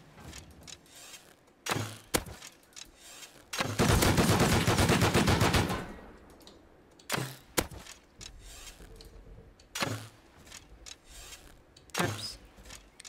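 Pistol shots in the survival video game Rust, sharp single cracks spaced a few seconds apart, with a longer burst of loud rapid fire partway through.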